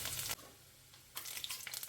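Dried red chillies fry in hot coconut oil, giving a faint sizzling crackle that comes in soft bursts at the start and end with a quieter stretch between.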